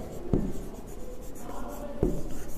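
Chalk or marker writing on a board during a physics lecture on the photoelectric equation, soft scratchy strokes with two sharper taps, close and fairly quiet over room noise.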